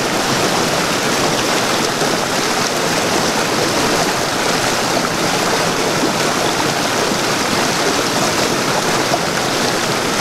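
A waterfall in Arkansas roars in a loud, steady, unbroken rush of falling water that fills the whole scene with no pauses.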